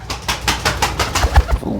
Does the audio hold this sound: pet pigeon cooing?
yes